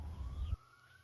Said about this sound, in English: Your siren's going out there.